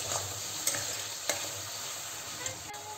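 Half-cooked potatoes stirred with ground spice paste in a pan over a medium flame, a steady close sizzle with a few soft scraping knocks from the spoon.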